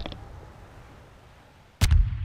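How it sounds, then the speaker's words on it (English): Explosion in the video game Half-Life 2, a sudden loud deep boom near the end after quiet background and a brief crack at the start. "Oh, I love that explosion sound effect."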